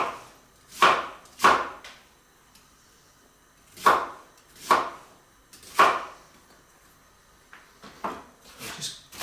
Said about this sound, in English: Give them a bit of a rough chop